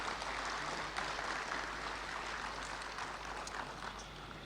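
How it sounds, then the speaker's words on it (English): Formal lecture audience applauding the Prime Minister of Malaysia in a hall, a continuous even patter of many hands clapping at moderate distance with no talk over it. "Let's give our Prime Minister a big round of applause."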